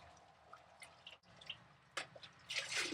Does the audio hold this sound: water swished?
yes